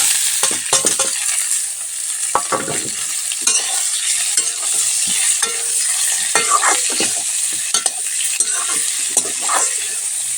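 Cut potatoes hit hot oil with bay leaf and onion already tempering, producing a loud, dense sizzle close by, punctuated by frequent clattering scrapes of a spoon stirring in the pan; no one speaks.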